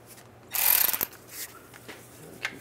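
A bolt being run in and snugged with a hand ratchet while fitting a torque converter on a 2007-2013 Chevy Silverado rear main seal job, heard as one quick burst of close ratchet clicking followed by a few faint metallic taps.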